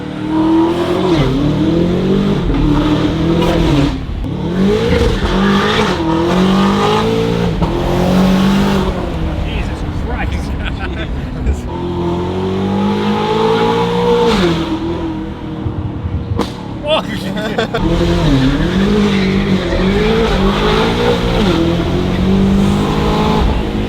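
BMW G90 M5 fitted with a Valvetronic Designs exhaust accelerates hard, engine revving up through repeated gear changes with brief pops between pulls, loud and close for the whole stretch, with a short exclamation from someone inside.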